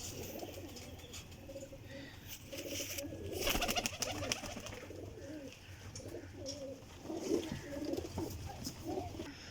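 Pigeons coo in soft, repeated throaty rolls at close range in a loft in Sarai Alamgir, Jhelum, with a few wing flutters and someone speaking briefly over the birds.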